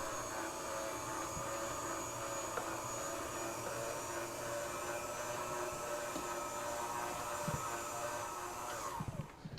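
An electric mixer whirs steadily, beating coconut cake batter with flour and milk, a constant mid-level motor drone that stops sharply at the end.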